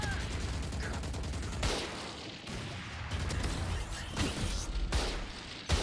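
Gunfire in Valorant, sharp loud sniper-style shots cracking at irregular intervals over a busy background of game noise, with a voice briefly speaking.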